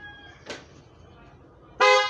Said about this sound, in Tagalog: Yan, busina natin.